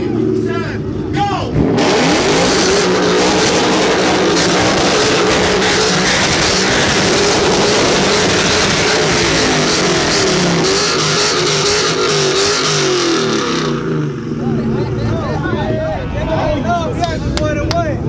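Black Dodge Challenger and a GT, both V8 cars, launching in a drag race at a Racewars event in Southern California, loud engine roar and revving sustained throughout with crowd noise and talk mixed in, easing off near the end.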